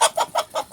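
A rooster on a backyard farm gives a quick run of four or five sharp clucks in a steady rhythm, close and clear with nothing else over it.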